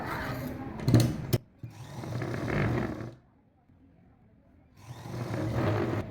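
A sewing machine stitches cut blouse pieces together for a 36-inch blouse front with cup shaping. The motor whirs and clatters in three close, steady runs, with a short stop and then a longer quiet gap before the last run.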